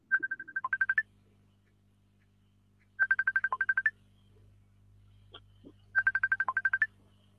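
A phone ringtone sounds during an online video-call interview: three bursts of rapid, bright electronic beeping, each lasting about a second and repeating about every three seconds, with faint quiet blips between them and no speech.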